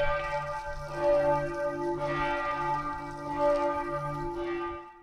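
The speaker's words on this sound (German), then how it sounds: "Sie wurden nämlich vom Glockengeläut der Kirchtürme informiert." Church tower bells toll with rich, sustained metallic tones that overlap and ring on, strikes swelling every second or so and slowly fading at the end, with no one talking.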